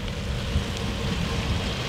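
Steady rain falls outdoors beside a street, a soft continuous hiss with no voices or other distinct sounds.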